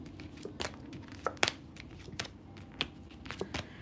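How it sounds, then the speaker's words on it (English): Tarot card decks are shuffled by hand, giving quiet, irregular papery riffles and flicks with sharp little snaps scattered over a soft room hiss. "Let me just shuffle these decks."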